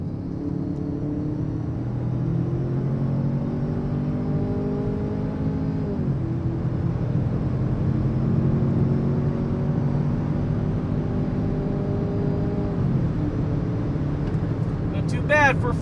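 A Ford Bronco Sport Badlands with a 4-cylinder engine accelerating, a steady close rumble with engine pitch rising through the gears and shifting around six and thirteen seconds.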